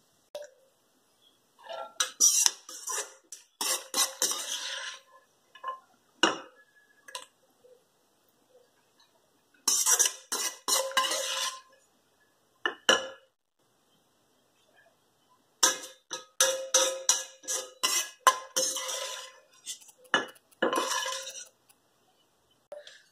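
Cashews, almonds, pistachios and walnuts dry-roasting in a pan give off bursts of sharp, rapid crackling and ticking, with near-silent gaps between the clusters.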